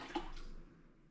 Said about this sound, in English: So we're just gonna water that in.